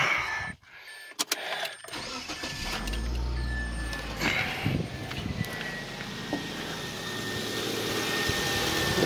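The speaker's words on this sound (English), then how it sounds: "Start the car." A 2002 Mazda Protege 5 with a brand new serpentine belt cranks, catches, and settles into a smooth, steady idle, heard up close with no squeal.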